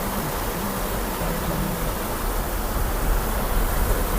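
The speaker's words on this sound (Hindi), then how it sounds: "यहाँ से पानी का शोर देखें कितना" A mountain stream rushes loudly in a steady, unbroken roar beside the mountain road from Naran to Babusar Top, with no voices heard.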